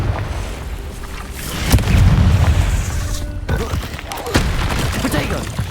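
A fiery Confringo spell blast in the Hogwarts Legacy video game, heard as a loud, dense burst of booming rumble that swells and carries on through the whole moment with crackling debris on top.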